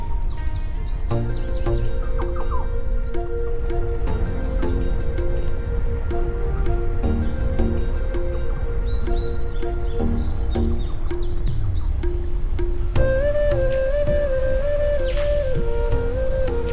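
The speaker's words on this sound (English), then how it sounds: "You might hear the call of the Sri Lanka whistling thrush, or spot the colorful yellow-eared bulbul." Birds calling and singing in the montane cloud forest and grasslands of Horton Plains, Sri Lanka, with bright chirps and whistled notes repeating over a steady background of insect and leaf noise, fairly close and continuous.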